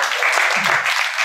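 Applause from an audience at a webinar event for a man invited up to give his testimony, a dense wash of clapping filling the short stretch at steady loudness, with a faint murmur of voices low underneath.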